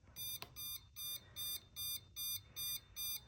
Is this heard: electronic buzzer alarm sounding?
yes